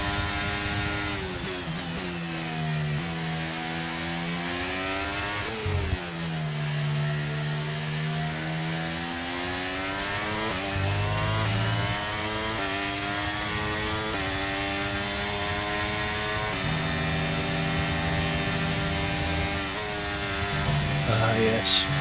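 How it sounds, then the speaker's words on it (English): A Red Bull Formula racing car's engine in a racing video game whines and drones steadily, its pitch climbing and dropping sharply through repeated gear changes, loud and continuous for over twenty seconds. "Really don't like the engine sound in the Red Bull."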